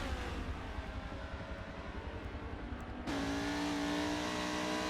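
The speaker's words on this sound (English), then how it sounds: "This car's going around the track." Race car engine from a Super Trofeo Cup racing game lapping a track, a steady droning motor that shifts up to a higher, louder steady whine partway through, with no talk.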